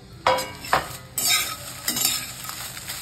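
Lavangi chillies roasting in a pan for a garlic-coconut chutney, with loud close scraping strokes of a spatula and a bright continuous sizzle between them.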